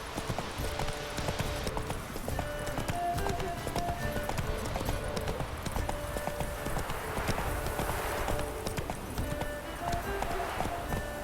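A horse gallops in The Witcher 3, its rapid hoofbeats loud and constant from start to finish over game ambience.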